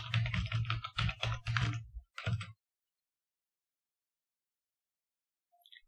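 A password is typed on a computer keyboard in a quick burst of clicking keys lasting about two seconds, then silence with a faint tap near the end.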